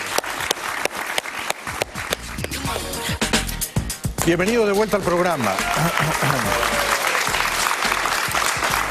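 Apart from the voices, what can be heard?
studio audience applause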